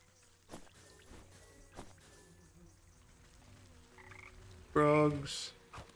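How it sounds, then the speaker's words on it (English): A frog croaks once in the game Wytchwood, a short loud harmonic burst near the end after a stretch of quiet ambience and soft footsteps. "Frogs."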